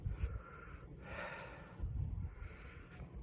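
Heavy, forceful breathing after eating an extremely hot Red/Black Thanos pepper, with repeated sharp intakes of air in rough bursts, close and fairly loud, with no talking.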